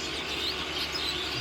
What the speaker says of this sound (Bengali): এগুলাকে আমাদের গ্রাম্য ভাষা বলে গুবরে শালিক।